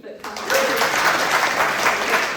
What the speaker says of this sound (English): Round of applause for the Keep Fit